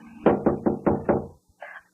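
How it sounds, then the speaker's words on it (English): Five firm knocks on a door in quick even succession, close and fairly loud, followed by a short pause and a faint trailing sound. "Oh, somebody's at the door."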